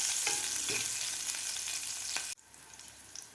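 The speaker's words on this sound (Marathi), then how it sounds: "हिरवी मिरची सुद्धा आपल्याला व्यवस्थित फ्राय करून घ्यायची आहे." Green chilies fry in hot oil in a pan, making a loud, close, steady sizzle with a few stirring scrapes before it cuts abruptly to a much quieter faint hiss.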